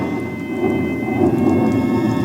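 A thunder sound effect in a radio play rolls as a loud, continuous low rumble mixed with rain noise, running alone without any voices.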